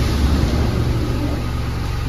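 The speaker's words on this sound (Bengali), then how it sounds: "গাড়ি যাচ্ছে।" A car pulls away, its engine giving a low, steady rumble close by for about two seconds.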